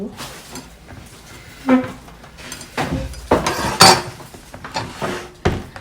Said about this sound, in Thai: เพื่อนๆวันนี้เราจะมาปอกทุเรียนแหมสองหน่วย